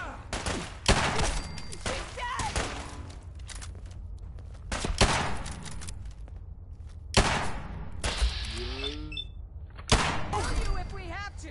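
Gunfire bursts from the video game Ad Victorium, several loud broadband volleys spread across the stretch with shouted battle voices between them.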